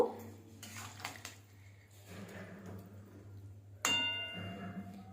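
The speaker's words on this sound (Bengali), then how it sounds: "পাতাগুলো একটু নাড়িয়ে নেব" A spoon scrapes and knocks against a pan while fried koftas and leaves are stirred, with a few light metallic clinks and a sharper clatter near the end, quiet and close.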